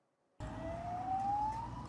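An emergency vehicle siren rises in a steady upward sweep, starting abruptly and sounding moderately near, in a makeshift tent city for people displaced by a disaster in Amizmiz, Morocco.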